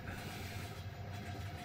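A train in the video game Super Trench Attack gives off a faint, steady mechanical rumble with a soft hiss and low chugging throughout.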